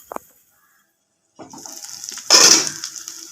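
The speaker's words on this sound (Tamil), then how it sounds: "தண்ணி போட்டுக்கலாம் இது வேகிறதுக்கு கொஞ்சமாக தண்ணி போட்டுக்கலாம்" Water pours into a cooking pot in a kitchen: a brief tap or clink, a pause, then a rushing splash of liquid that swells loudest near the end and trails off.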